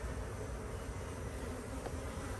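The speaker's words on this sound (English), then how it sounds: "bees" Bees buzzing at an apiary, a steady low drone that fills the whole stretch, faint and continuous with no pauses.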